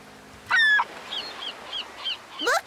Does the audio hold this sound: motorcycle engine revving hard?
no